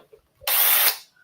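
A power drill whirs in one short, loud burst of about half a second, starting abruptly and cutting off, with quiet before and after.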